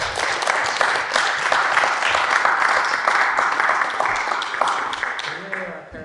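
Audience applause at a school live-stream event, a dense steady patter of many hands clapping that fades toward the end, with a voice speaking over it.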